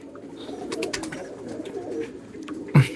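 Madrasi pigeons of the Pulsar line in a loft at Ichhapur, Kolkata, coo in low, rolling bursts close by, with a brief sharp thump near the end.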